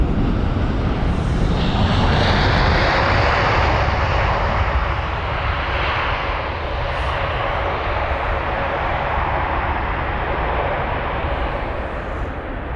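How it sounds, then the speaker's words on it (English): A United airliner touches down at London Heathrow, a loud, steady roar of jet engines and rushing air filling the whole stretch close by, with no talking. "Oh, a nice touchdown there."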